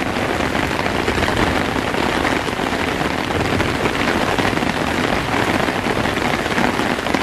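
Heavy rain pelts a tarp strung over a camping hammock during a late-night thunderstorm, a dense, loud, unbroken drumming hiss heard close up with no voices.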